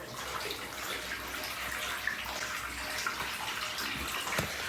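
Water runs steadily from a tap into a bathtub during a plumbing check of the bath waste, a continuous broadband rush of filling water close by with no talk.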